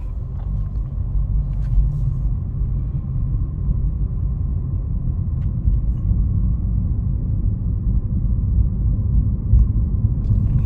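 Cabin of a 2016 Lexus IS200 2.0T under way, a steady low road and engine rumble with faint tyre noise, even and continuous with no voices.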